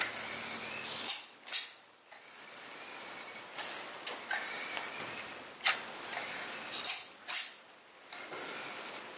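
A caulk gun squeezes blobs of Liquid Nails adhesive onto a garage door to hold foam insulation, giving repeated ratcheting clicks and rasping squeezes in irregular bursts, close and fairly quiet.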